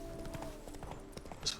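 A horse gallops in the video game The Witcher 3, rapid rhythmic clip-clop hoofbeats close and steady under quiet ambient game sound.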